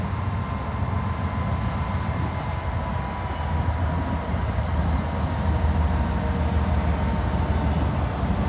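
A CSX X202 freight train rumbles past slowly as it comes to a stop, a steady, loud, continuous roar with faint wheel clatter and a thin high squeal, with no voices.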